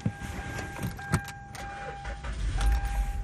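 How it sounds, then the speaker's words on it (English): A car engine fed from ultra-capacitors charged by AA batteries cranks and catches, following a few clicks and jangles, then settles into a low idle rumble. "Now I'm going to start my vehicle."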